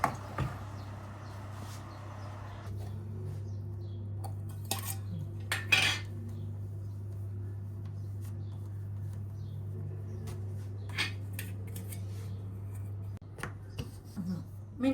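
Baked korzhik pastries being cut with a knife, heard as scattered sharp clicks and taps against a plate or board over a steady low electrical hum, close by and with no talking.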